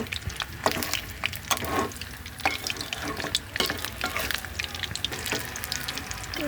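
Cauliflower pakoras frying in a pan, a soft crackling sizzle broken by sharp scraping stirs and clinks, fairly close and moderately quiet, with no voices.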